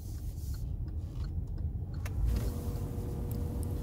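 A car driving along a road, its steady engine and road rumble running low and continuous from inside the cabin, with a few faint clicks and a slight swell partway through.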